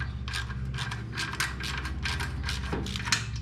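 Hand tools clank and ratchet in short metallic bursts while brake calipers come off a car to reach the rotor hats, a steady run of close clicks and knocks over a constant low hum.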